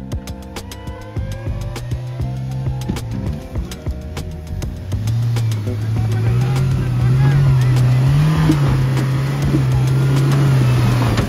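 Off-road car engine labouring hard on rough ground near Gurugram, a low droning note that rises and swells louder in the second half, with shouting voices and rattles over it.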